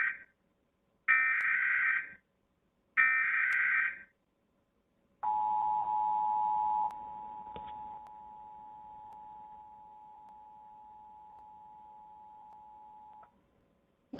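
Emergency alert tones broadcast over a TV, a few loud two-tone bursts in a rising-falling pattern followed by a long steady sustained beep that holds for several seconds before cutting off, with no talking.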